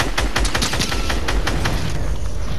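A shotgun firing in a video game, a loud close string of sharp repeated blasts in quick succession over dense battle noise.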